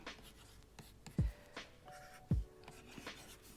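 A stylus writes on a tablet in a notetaking app, heard as quiet scratchy taps and short strokes, with two sharper knocks as the pen lands. The sounds come close and soft, with no talk.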